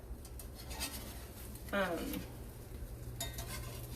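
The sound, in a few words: scrambled eggs being pushed across a frying pan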